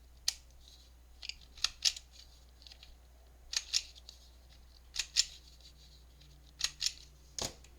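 Handheld corner rounder punch clipping the corners of small paper tags, crisp sharp snips in irregular pairs and singles, close and quiet with silence between cuts.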